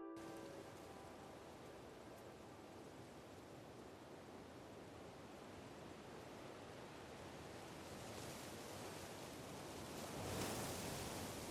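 A sound-design atmosphere for an alien forest world from Avatar: Frontiers of Pandora, made of steady broadband wind wash that builds into a stronger gust near the end, faint and with no voices.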